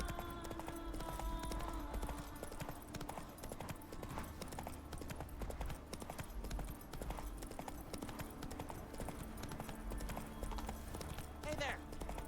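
Roach the horse galloping in The Witcher 3 on Skellige, a fast continuous drumming of hooves close up, with game ambience and voices talking over it.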